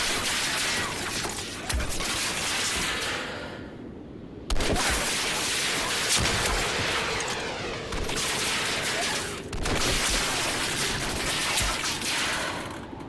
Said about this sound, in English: Bullets aren't doing anything. Time for the rocket launcher.